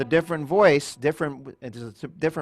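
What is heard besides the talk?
No distinct noise like a dog, phone or traffic.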